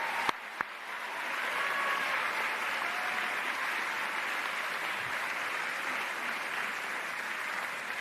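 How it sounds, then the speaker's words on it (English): Steady, dense applause for students at a College of Europe closing ceremony, a crowd clapping loudly and evenly throughout, with a couple of sharp knocks near the start. "May I take this opportunity to ask another round of applause for all our students"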